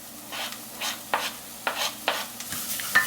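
Ginger added to a pan of hot oil for yellow split pea daal sets off a soft sizzle, with repeated scraping stirs and clinks of a utensil against the pan, close and fairly quiet.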